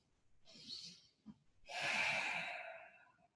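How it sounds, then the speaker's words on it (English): Deep breaths during a seated yoga shoulder stretch, with arms raised and hands resting on the shoulders: a soft breathy exhale, a brief pause, then a longer, fuller breath that swells and fades slowly, close and quiet. "Take a couple of breaths here."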